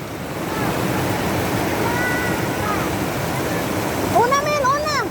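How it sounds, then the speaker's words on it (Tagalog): A strong creek rushes in a continuous loud roar close by, and a few brief high-pitched voices cry out near the end. "Kusog kayo yung tubig."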